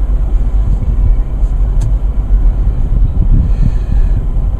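A 2014 Mercedes-Benz GLK 250 driving, its steady low road rumble and engine hum filling the cabin continuously, with faint rattles over the top and no talk.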